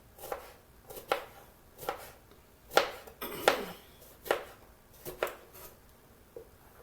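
Steady knife chopping of vegetables for grilled pondu, roughly a dozen crisp strokes on a board in an even rhythm, close and moderately loud, with no speech over them.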